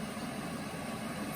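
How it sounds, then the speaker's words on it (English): A Tefal Actifry air fryer runs with a steady mechanical whir and low hum, droning on evenly throughout, with no pauses or changes in level. "Sorry about the noise in the background. It's the Acti-Fry."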